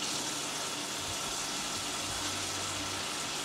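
Tap water runs steadily and close while aji peppers are washed in a kitchen sink, a constant broadband splashing stream with no talk over it.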